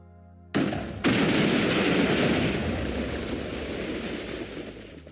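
A cluster of 512 Minecraft TNT blocks detonates, hitting suddenly and then rising in a second jump into a huge sustained roar of overlapping crackling blasts that slowly fades while still rumbling.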